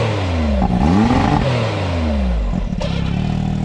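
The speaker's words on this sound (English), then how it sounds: "rev it up a couple times." A car engine fitted with a catalytic converter delete revs several times, rising and falling in pitch with a raspy exhaust note, heard loud and close with no speech.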